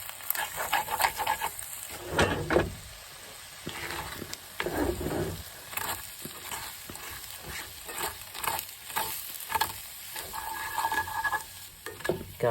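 A spoon stirs Spam, potatoes O'Brien and egg whites in a pan over low heat, scraping and shuffling in uneven strokes against a soft, steady sizzle, with no talking.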